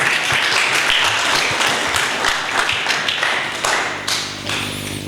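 Congregation at a church sermon service claps hands together in sharp, fairly regular strikes, loud and close, the clapping thinning and slowing toward the end.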